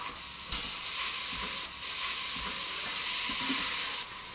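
Diced onion sizzles in an Instant Pot on sauté while being stirred, a steady close hiss broken by soft scraping stirs and brief dips in volume.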